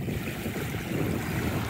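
North Atlantic Ocean waves wash onto an Irish beach, a close, continuous surf roar mixed with wind buffeting the microphone, steady and fairly loud throughout.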